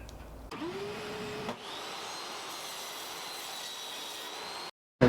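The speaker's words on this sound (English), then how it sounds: "So I'm gonna start the shop vac and the blade," A shop vac starts up and runs with a steady whining hum as a saw blade spins up to cut wood, the motor drone continuing alone at moderate level before cutting off abruptly.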